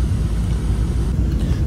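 Steady, loud low rumble inside an airplane cabin as the flight begins its descent toward landing on a Goa to Chennai trip, a dense continuous drone with no talk.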